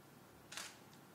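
A DSLR camera shutter fires once, a single short, faint mechanical click in an otherwise quiet room.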